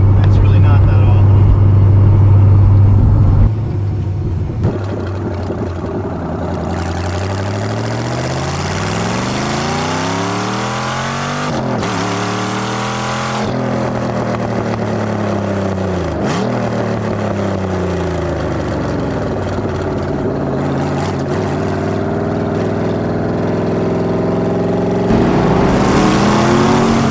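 A Porsche 911 Turbo fitted with a Chevrolet Corvette C6 Z06 LS7 V8 cruises in sixth gear around 40 mph, its low engine drone rising and falling in pitch as it eases along, with people talking over the steady hum inside the car.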